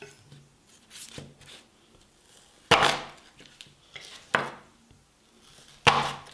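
A knife chops shallots on a cutting board: a few sharp, separate cuts spaced irregularly, with fainter taps between them, close and clear against a quiet kitchen.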